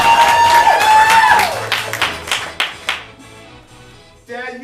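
A small live audience at a comedy fringe show claps in a burst of sharp hand claps that thins out and fades, following a moment of loud music, with a brief voice near the end.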